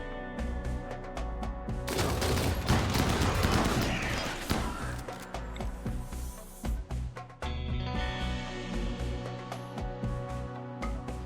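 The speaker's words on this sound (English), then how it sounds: "Keep shooting there." Rapid weapon fire in the colony game RimWorld, a dense crackling volley in the first half that thins into scattered shots and mechanical clicks over a steady music bed.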